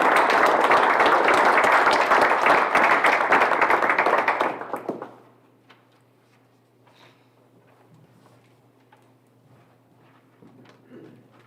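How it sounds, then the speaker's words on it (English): Audience applause at a graduation ceremony, a dense burst of many hands clapping for about five seconds before cutting off abruptly, leaving a quiet room with faint shuffles and a low steady hum. "I'd like to give you all a round of applause"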